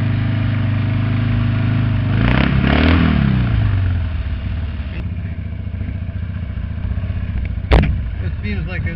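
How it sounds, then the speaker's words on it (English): A Harley motorcycle engine rumbles loudly up close as the bike slides on a light covering of snow over asphalt, with a swelling rev, some clatter and a sharp knock near the end. "just kind of muscling the bike around like that. And it's sliding out."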